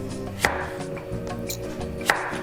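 A knife cuts a Hokkaido pumpkin into 1 cm slices, giving two sharp chops on a board about a second and a half apart, close and crisp over a steady low hum, with no voices.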